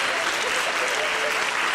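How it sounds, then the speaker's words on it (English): Congregation applause during a church service, dense continuous hand clapping from many people close by, loud and even throughout with a faint murmur of voices blended into it. "Let's give him another hand clap of praise."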